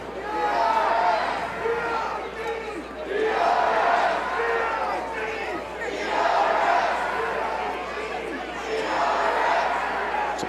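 Football stadium crowd roars and cheers in continuous swelling waves as the Massillon Tigers run onto the field for a night game against Canal Winchester, loud and dense with chanting voices throughout.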